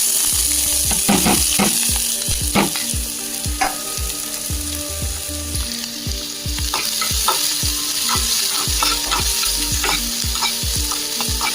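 Small chopped onions frying in a little oil in a non-stick pan, a constant loud sizzle broken by repeated scraping stirs of a utensil against the pan at an uneven rhythm.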